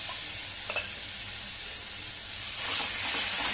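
Ground garlic, green chilli and ginger paste sizzles steadily in hot oil with ajwain and cumin, a continuous close frying hiss that swells louder near the end as it is stirred.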